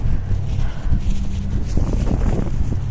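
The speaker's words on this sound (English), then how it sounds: "the wind is coming through" Wind buffets a microphone outdoors on a freezing cold walk, a steady, loud rumbling roar with gusty surges throughout and no voice.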